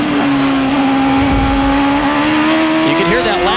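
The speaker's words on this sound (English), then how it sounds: "You can hear that last shift didn't engage very smoothly." A 1999 CART race car at Road America downshifts under braking, engine pitch falling then jumping as a gear engages roughly, loud and continuous behind a commentator's talk.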